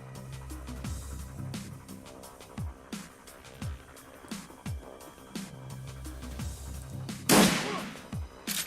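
Shotgun blasts in the Shadowrun Returns video game, a series of separate muffled booms spaced a second or so apart, ending in one louder, noisier blast.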